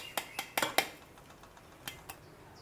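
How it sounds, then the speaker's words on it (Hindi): A metal strainer clinks and taps against a big vessel as ground fennel and sugar are sieved through it. The clicks come as a handful of sharp, quiet hits, mostly bunched early and then two more later, with no talking. "अब इसे छानने के लिए हमने एक स्टैंडर लिया है और बड़ा बर्तन लिया है"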